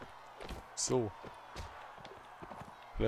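Horses galloping in the Mount & Blade: Warband video game, with two short bursts of clip-clop hoofbeats standing out against steady game noise and speech.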